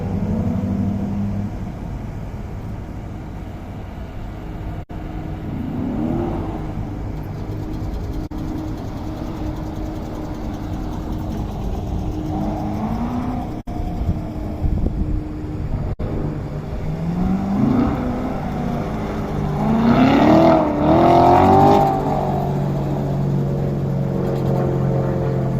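Corvettes running an SCCA autocross course in May, heard from the spectator area. Engines rise and fall as the cars accelerate and brake, and a louder revving pass comes near the end over steady outdoor background noise.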